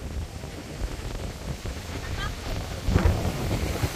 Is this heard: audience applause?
no